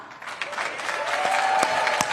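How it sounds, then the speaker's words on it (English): A studio audience breaks into applause: a short burst of dense clapping that swells and holds steady for about two seconds, with no speech over it. "Hold for applause"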